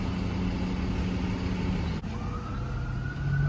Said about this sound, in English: Now there is a fire truck.